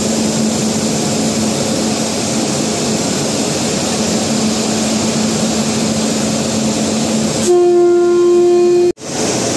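Rameswaram Diwali special express train at Chennai Central, a loud steady rumble for several seconds, then a sustained horn blast that cuts off abruptly.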